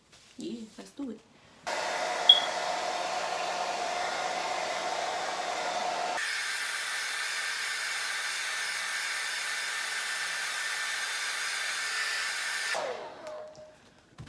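A hair dryer blows steadily for about eleven seconds to heat a wig during an install, a loud, close, continuous whoosh that cuts out abruptly and changes pitch partway through.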